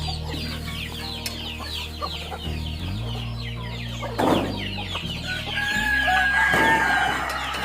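Chickens cluck steadily on a backyard village chicken farm, with a rooster crowing partway through over a low, constant hum.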